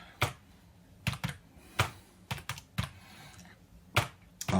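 Someone types an IP address range on a computer keyboard: sparse, irregular keystrokes, single taps and quick pairs, close up and fairly soft in a quiet room with no talking.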